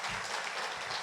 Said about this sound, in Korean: 우리 경례의 박수 한번 할까요?